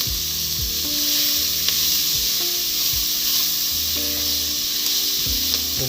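Chillies and garlic fry in oil in a pan for a Telugu chicken dish, a loud continuous sizzle and hiss broken by repeated stirring scrapes, with no voices.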